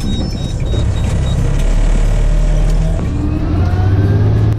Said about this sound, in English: You can hear how loud the truck is. There's beeping noises, hydraulic noises, and engine noises.